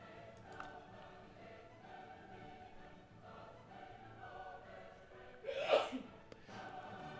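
A woman sneezes once in another room, a brief burst partly masked by steady background music from a strategy game.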